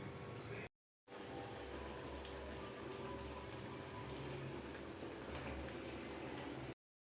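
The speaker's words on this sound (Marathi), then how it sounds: "आता साबुदाणे वडे तळून घेते." Sabudana vada (tapioca fritters) fry in hot oil with a steady crackling sizzle, broken by a short silent gap near the start, heard alone without talk.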